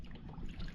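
Water trickling and dripping out of a converted pedal boat, a soft, steady, close trickle with faint splashy detail throughout.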